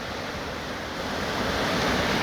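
Floodwater on the River Don roars over Sanderson's Weir in a continuous, dense rush of water that swells slightly toward the end, heard alone with no voices.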